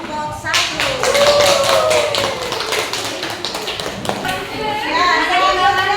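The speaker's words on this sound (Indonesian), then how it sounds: "Kasih aplaus untuk kelompok 1." Classroom of students applauding a student group after a presentation, a burst of claps and taps with children's voices and chatter mixed in, fading then picking up again near the end.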